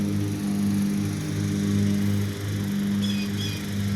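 A lawn mower runs steadily while mowing, its engine droning in a continuous hum at moderate distance with a slight dip partway through.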